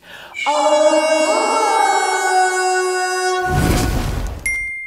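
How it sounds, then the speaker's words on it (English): A loud, sustained air horn blast with a harsh tonal blare, holding for a few seconds before cutting off into a burst of noise. "air horn again? Air horn, great."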